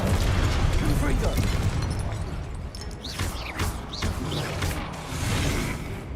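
Fiery Confringo spell blasts in Hogwarts Legacy: several bursting pops and swishing whooshes land in quick succession over a rumbling battle background.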